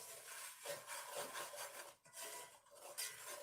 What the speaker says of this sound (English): We're going to stir it around, kind of scrape the bottom of that pan a little bit